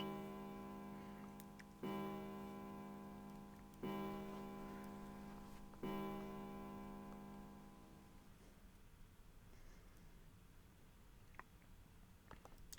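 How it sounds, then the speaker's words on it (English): A clock bell at a central staircase in the 999 video game strikes several times at even intervals of about two seconds, each deep, ringing tone decaying into a long fade, then leaving near-silence with small ticks. "Somewhere he heard a bell ring. It was the clock at the central staircase."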